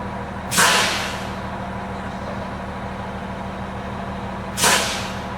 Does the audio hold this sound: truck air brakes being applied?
yes